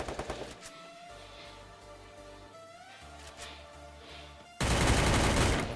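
Bursts of automatic gunfire from a Free Fire battle-royale game crackle over ambient game sound, building to a loud, dense volley near the end.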